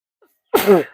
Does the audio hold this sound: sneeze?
yes